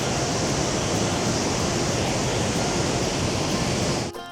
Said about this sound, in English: You get to walk right up to the waterfall practically.